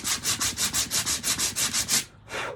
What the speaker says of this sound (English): We're sanding off the edges of it.